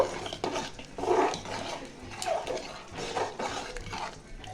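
A spoon stirring thick khichuri with coriander leaves in a cooking pot, giving repeated scraping and soft clinking strokes at close range with no voice over them.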